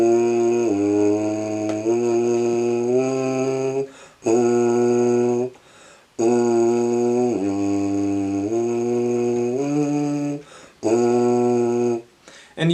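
A tuba plays a warm-up pattern of sustained notes that step down from a middle note and back up, repeated in several loud, close phrases with short breaths between.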